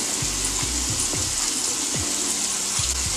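A thin stream of water runs steadily while hands are scrubbed, with small splashes and wet rubbing sounds close up during a skincare routine, no talking.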